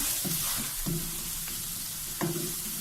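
Ginger-garlic paste crackles and sizzles in a pan for chicken chow mein, with a few spatula scrapes marking the steady frying noise.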